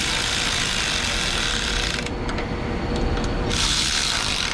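A ratchet wrench tightens nuts on the carburetor of a Craftsman snow blower, giving a loud, dense run of rapid clicking that continues steadily for several seconds against a constant noisy background, with no talking.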